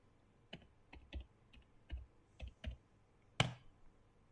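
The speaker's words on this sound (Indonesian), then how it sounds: "ketika kita ketik password ini tidak muncul ya di layar" A password being typed on a computer keyboard: about ten separate key clicks in an uneven rhythm, close and quiet, ending in one sharper, louder keystroke like a press of the enter key, with no talking.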